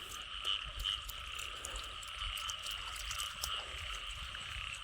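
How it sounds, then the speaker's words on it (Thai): Kob khom frogs croaking at night, a dense chorus of many overlapping calls with rapid repeated croaks and trills near and far, a steady loud wall of sound with no talking. "เนี่ยมีกบโคมกัน"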